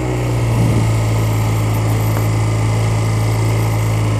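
A vehicle engine hums steadily while braking and downshifting, a constant droning tone with a slight bump in the low rumble early on, no talk.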